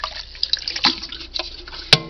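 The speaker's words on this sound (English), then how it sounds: "if it's super dirty, I might rinse it out just a little bit." Water runs from a tap as a dirty paint water cup is rinsed at a sink, with a short steady splash and flow, then a sharp clink of the cup near the end.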